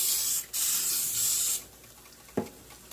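A can of cooking oil sprays onto a grill in two quick hissing bursts, the second longer, followed by a soft clunk, close and with no voices.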